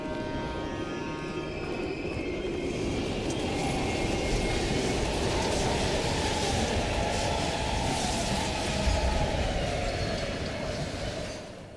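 A train rolls steadily past in the Call of Duty Black Ops Cold War video game, a continuous loud rumble with a faint high whine that holds evenly throughout, with no talking.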